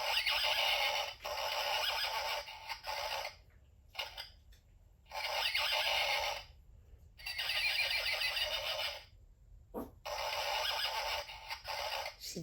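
A Tekno Pony robotic toy horse neighs in four or five loud, whinnying bursts, separated by brief pauses.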